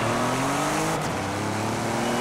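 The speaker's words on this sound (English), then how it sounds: "that must be like a twin turbo V6 or something, because that's not a V8" Maserati Levante SUV, an 850 HP build in the racing game Forza Horizon 5, with a twin-turbo V6 engine droning steadily at high revs, loud and close, with a brief shift in pitch midway.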